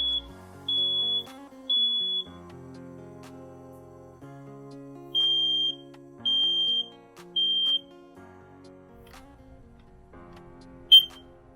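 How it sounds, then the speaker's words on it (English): A smoke alarm sounds a series of high, piercing beeps in short bursts, two early and three later, followed by a sharp chirp near the end. "to test it, you have to press and hold for a couple of seconds"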